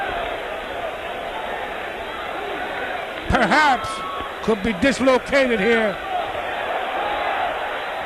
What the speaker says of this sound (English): the crowd's going bananas as Blassie's putting the boots to him outside the ring